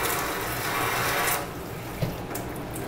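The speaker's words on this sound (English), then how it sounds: "Usually in 1 cup of water boiled in the microwave will usually suffice to flush this barrel 3 times." Hot water, boiled in a microwave, is flushed through a syringe barrel used in cattle processing: a steady close rushing hiss for over a second, then a softer wash with a small clunk.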